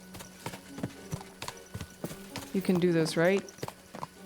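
Horse hooves clop in a steady rhythm on a steep slope in Kingdom Come Deliverance II, close and distinct, while someone speaks over them in a strained, coaxing voice.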